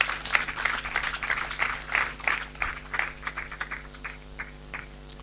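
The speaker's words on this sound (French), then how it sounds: "Applaudissons le Seigneur." A church congregation applauding during a French-language service, with lively, uneven clapping that peaks early and gradually thins out toward the end, heard alone without talk.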